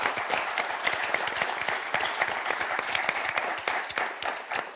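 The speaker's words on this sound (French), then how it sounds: "Merci beaucoup, on vous applaudit très fort." A studio audience on the TV game show Motus breaks into applause, a thick, continuous patter of many hands clapping at an even, fairly loud level.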